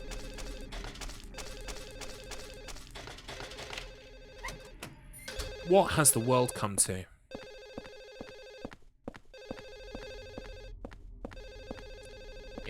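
A telephone rings in an apartment in the horror game Silent Hill 4, a repeating electronic bell pattern in steady bursts with short gaps, under eerie game ambience, while someone talks over the early part.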